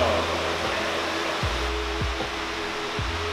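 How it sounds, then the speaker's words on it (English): Steady broadband rushing noise with a low hum inside a mostly dry storm sewer tunnel, reverberant and hollow, with a few deep booming thumps echoing through the enclosed space. "Listen to that echo."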